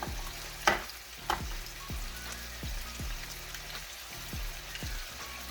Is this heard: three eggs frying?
yes